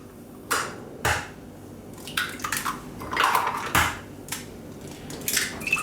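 Eggs are cracked against the rim of a mixing bowl for a raspberry baba, making several sharp knocks and shell crackles with small liquid drops, close up and clear over a quiet kitchen.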